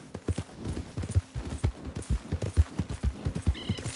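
Horse hooves clip-clop in the Red Dead Redemption 2 video game, a steady rhythmic trot of close, distinct hoofbeats continuing throughout.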